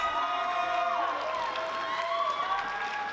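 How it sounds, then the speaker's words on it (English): A tag team wrestling crowd roars and cheers loudly in a dense, continuous swell, with scattered whoops and shouts rising above it. "And you hear this crowd"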